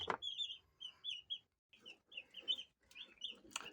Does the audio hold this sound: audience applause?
no